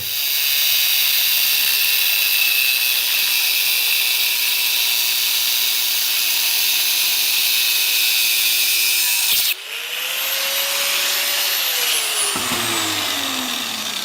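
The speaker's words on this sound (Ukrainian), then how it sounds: "Ріжу фактично на помазки, трохи мені втікло." A power tool cuts through a steel profile tube with a loud, continuous high-pitched whine and hiss. The sound breaks briefly at about nine seconds, then resumes before the motor's pitch winds down. No voice is heard.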